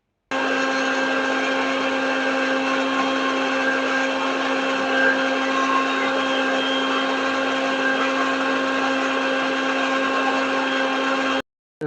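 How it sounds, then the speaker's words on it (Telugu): A kitchen blender whirs steadily as it mixes curd, water and green chilli for buttermilk, a loud continuous motor drone that runs alone for about eleven seconds before stopping abruptly. "దీన్ని మెత్తగా మిక్స్ అయితే పట్టుకుందామండి."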